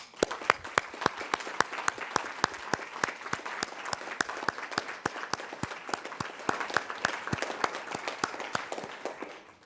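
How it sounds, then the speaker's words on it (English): Steady applause from an audience at a diversity and inclusivity alliance kick-off, honouring the lead team and working groups: many sharp, closely spaced claps forming a continuous patter at a moderate distance, with no talking. "please give them a round of applause"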